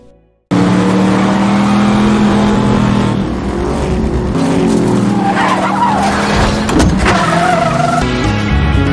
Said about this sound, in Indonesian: saat balapan berlangsung, Ken mengendarai mobil dengan baik